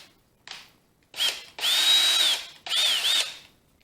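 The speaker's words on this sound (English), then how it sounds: "That way my drill is not walking all over the place when I try and drill." A power drill bores a small hole in wood, with three close, loud bursts of whining motor and bit noise separated by brief pauses, and no talk.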